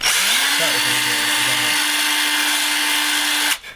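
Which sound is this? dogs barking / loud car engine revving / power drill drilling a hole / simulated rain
power drill drilling a hole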